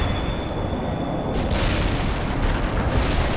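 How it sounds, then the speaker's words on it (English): An artillery barrage in the video game World in Conflict pounds as a continuous roar of deep booming blasts that swells after a short lead-in. "Artillery barrage inbound."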